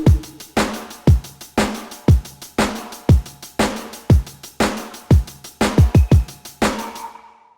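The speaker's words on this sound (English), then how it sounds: "In red up here, I've created a drum track that sounds like this" A programmed drum track in a Pro Tools session: a steady loud groove of punchy kicks with deep pitch-dropping tails and bright snare and hi-hat hits, a quick flurry of hits near the end, then a ringing decay.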